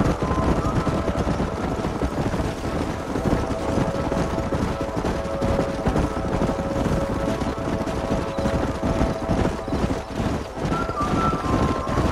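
Horse hooves clip-clop steadily in the Red Dead Redemption video game during a canyon ride, a continuous, busy rhythm blended with other game sounds such as wind and distant gunfire.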